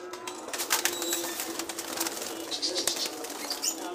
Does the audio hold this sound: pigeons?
yes